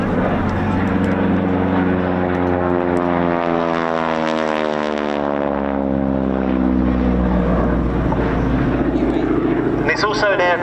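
A North American Harvard T-6 Texan propeller trainer flies past at the RAF Cosford air show. Its loud engine drone sweeps down in pitch as it passes, under an ongoing commentator's voice.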